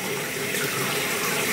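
Water from a bathroom sink tap runs in a steady, close, continuous hiss with a bright splashing texture, alone and unbroken throughout.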